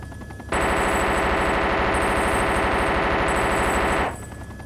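Sustained automatic gunfire in the DayZ Overpoch game, a loud unbroken rapid burst lasting several seconds that starts and stops abruptly, with no voices over it.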